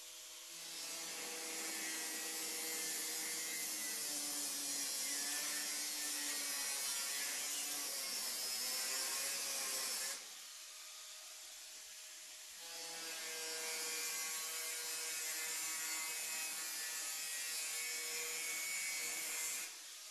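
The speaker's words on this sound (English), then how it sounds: "Now let's watch Easy Glide as it cuts through this 22 gauge sheet metal." EZ Glide cutting wheel on a right angle grinder slicing through 22 gauge sheet metal: a loud, steady, harsh whining grind that runs about ten seconds, drops away briefly, then resumes at full strength to the end.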